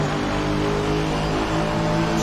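A GT3 race car engine in Assetto Corsa Competizione at Paul Ricard holds loud, steady high revs under hard acceleration, dense and unbroken throughout, with no talking.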